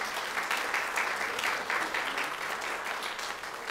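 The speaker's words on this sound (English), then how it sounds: "Yes, give them an applause for sure." A church congregation applauds the band after a morning service, steady dense clapping throughout, close and fairly loud, with no talking over it.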